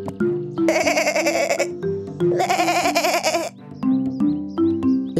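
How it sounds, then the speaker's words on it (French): In a French children's cartoon, a small hungry goat bleats twice in long, loud, quavering cries, set against light musical backing that continues between the calls. "une petite chèvre affamée apparut devant la jeune fille"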